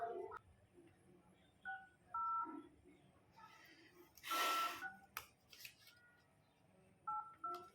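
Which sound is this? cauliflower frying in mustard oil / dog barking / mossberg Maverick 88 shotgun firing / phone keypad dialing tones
phone keypad dialing tones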